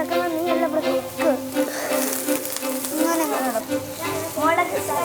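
Mustard seeds sizzling and popping in hot oil, a steady frying hiss running through the whole stretch beneath chatty voices in a home kitchen.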